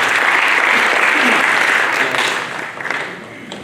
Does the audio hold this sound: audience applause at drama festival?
yes